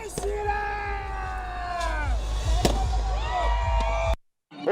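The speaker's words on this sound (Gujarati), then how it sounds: "આતશબાજી સાથે રાવણ દહન કરવામાં આવ્યું હતું" Fireworks crackle and pop with sharp bangs at a Vijayadashami celebration in Anand, where a Ravana effigy is burned before a large crowd, the bursts layered over steady crowd noise and a loud low rumble before an abrupt cut to silence.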